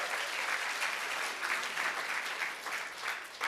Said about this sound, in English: Come on, you guys should clap your hands.